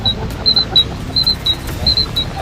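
A Cardo helmet intercom sends out short, high electronic beeps, often in quick pairs, repeating at a steady pace over a low rumbling background.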